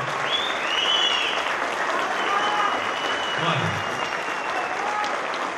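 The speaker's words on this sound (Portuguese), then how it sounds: "Palmas para esse pessoal." A crowd claps warmly at a church choir's CD launch concert, a full, even wash of applause with scattered whistles and murmured voices mixed in.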